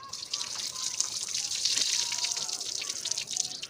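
Water is poured over rice in a bowl to rinse it, a steady close splashing and trickling with bright drips, heard without talk.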